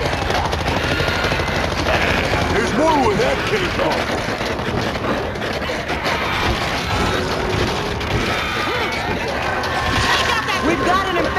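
Gunfire from the World War Z zombie shooter on Nintendo Switch, rapid bursts and rattling shots blending with game noise and layered under excited talking voices throughout.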